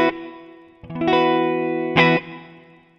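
Electric guitar played through a Sony HR-GP5 amp simulator with compression and a bit of reverb: sustained distorted chords ringing out, one struck, then a fresh chord hit near the end before fading.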